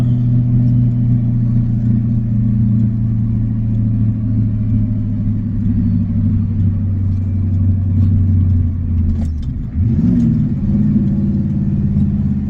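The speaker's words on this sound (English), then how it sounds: "Another good double clutch downshift." A rare one-year-only Ford F-250 diesel pickup engine drones steadily under load, then briefly dips and rises in pitch during a double-clutch downshift near the end, loud and close inside the cab.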